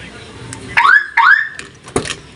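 Aftermarket car alarm on an Isuzu Crosswind gives two loud, rising electronic chirps in quick succession as the vehicle locks, close by, followed by a short click.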